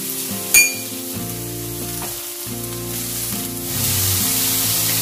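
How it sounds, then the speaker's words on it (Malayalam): Sliced onions frying in ghee with salt until golden and crisp for ghee rice, giving a steady close sizzle and crackle, with a brief utensil clink near the start. "സവാള നല്ലൊരു ഗോൾഡൻ ബ്രൗൺ കളർ ആകുന്നത് വരെ വഴറ്റിയെടുക്കണം."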